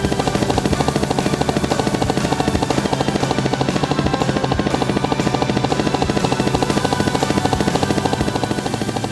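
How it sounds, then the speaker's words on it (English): A cartoon helicopter arrives and hovers in a Peppa Pig episode, its rotor chopping in a loud, steady, rapid rhythm with a constant engine drone throughout, no voices. "Goofy then landed the helicopter and gave Bun Bun back her sheep"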